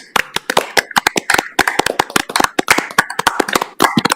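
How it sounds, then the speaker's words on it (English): A round of applause at a library board of trustees meeting comes from just a few people, with distinct, sharp, close hand claps in an irregular rhythm over about four seconds, and no talking. "if you could just join me in a round of applause, no matter where you are in which room around the city"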